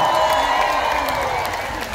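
Cheering and clapping from a concert crowd welcoming an Andean music band, loud and continuous, with a sustained tonal ring and shouting voices mixed into the dense crowd noise.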